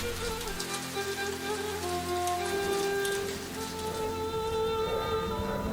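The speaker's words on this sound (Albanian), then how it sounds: "Sonte po bjen shumë shi." Heavy rain pours down steadily for the whole stretch, a dense, even hiss with sustained tonal music playing over it.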